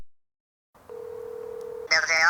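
A telephone line gives a steady single tone for about a second as a call goes out to a used car dealer, then a brighter burst of ringing or connection sound follows, close and clear.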